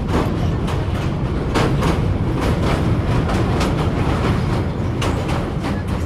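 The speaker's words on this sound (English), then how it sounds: "The train moves to its own beat, now in fast steps, now slow, halts, then starts again, chugging along." A moving train rolls along the rails with a loud constant rumble and a rhythmic clickety-clack of wheels over joints at irregular intervals, heard up close throughout.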